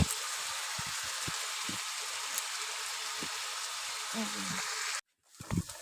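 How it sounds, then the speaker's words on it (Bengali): Potatoes and cauliflower fry and are stirred in a pan, a constant bright sizzle with faint scraping knocks, then an abrupt cut followed by a brief noise. "ভাজা হয়ে এসছে বন্ধুরা এই যে কড়কড় করে ভাজা হয়ে গেছে"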